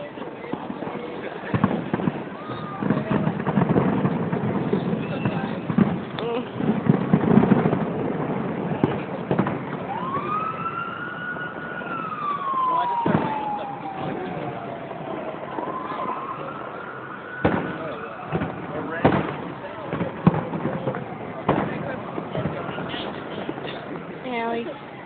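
Fireworks explode in a string of sharp bangs and crackles across the whole stretch, some whistling as they rise, with people chatting and reacting close by.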